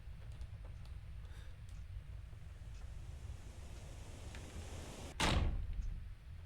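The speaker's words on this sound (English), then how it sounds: "Doors are open, I closed it." A door shuts with one sharp, loud slam in a scary video game, heard after several seconds of low windy rumble and soft ambient noise.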